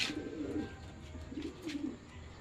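Racing pigeons at a club training session coo in soft, low bursts, two distinct rounds close by over a quiet background, with no speech.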